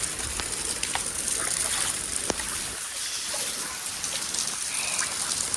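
Steady rain pours down without a break in Gujarat, a dense wash of pattering drops with a few sharper splashes, fairly close and continuous.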